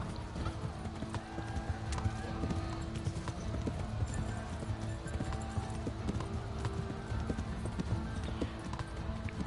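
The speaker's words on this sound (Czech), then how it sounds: "Nasadí na koně a jeď." Horse hooves clip-clop steadily at a riding pace in the medieval video game Kingdom Come: Deliverance, with an occasional whinny and faint mechanical rattles under the continuous galloping rhythm.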